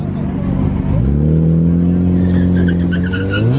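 A tuned 8Y Audi S3 with a TTE700 turbo launches down a drag strip, its oil not yet fully warm. The engine note climbs loudly and steadily through the pass, close and continuous.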